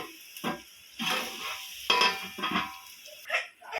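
Onions fry in a pan for chicken kulambu and are stirred in bursts, each scrape over the sizzle coming close and crisp, with quieter gaps between them.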